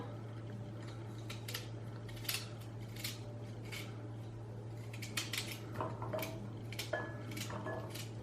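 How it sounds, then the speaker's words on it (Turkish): A knife taps repeatedly against a board in a loose, irregular rhythm, quiet and close, over a steady low hum, as potatoes are chopped into small pieces. "Evet böyle ufak ufak doğruyoruz."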